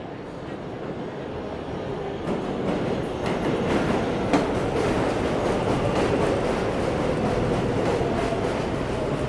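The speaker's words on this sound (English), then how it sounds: "This is why 7 trains is my favorite line." A New York City 7 line subway train rumbles past close by in Queens, a steady loud roar of wheels on track with rising clatter and no voices.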